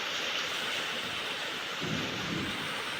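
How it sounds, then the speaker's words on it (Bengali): Heavy rain pours steadily as a broad, even hiss throughout, with a faint low rumble of thunder rolling in near the end. "কি জোরে বৃষ্টি হচ্ছে দেখো শুধু"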